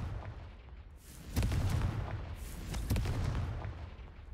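Confringo fire-blast spell in a Harry Potter video game, a couple of muffled booming bursts over low rumbling background, moderately loud and close.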